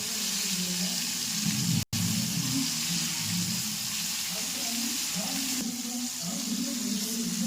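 Food fries in a pan with a steady, close, hissing sizzle that runs almost without a break, dropping out for a split second once.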